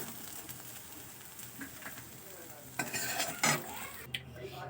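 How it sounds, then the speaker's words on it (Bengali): Fried brinjal pieces lifted out of sizzling oil in a pan, with a quiet steady sizzle and a few scraping, clinking stirs of a spatula against the pan. "এবার আমি বেগুনগুলোকে তুলে নেব।"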